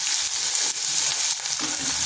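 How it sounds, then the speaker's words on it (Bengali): Long-sliced onions fry in hot oil, giving a close, even sizzle and crackle broken by brief stirring noises, with nobody speaking. "এদিকে পেঁয়াজটা ভাজা হোক,"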